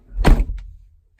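A single muffled thunk of a Maybach 62's car door shutting nearby, followed by near silence.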